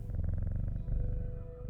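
A cat purrs in the game Strange Horticulture, a steady low rumbling purr with a fast pulsing rhythm, close and continuous with no talk over it.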